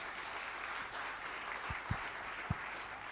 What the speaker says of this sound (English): So give you a huge round of applause for Pooja Bhatt.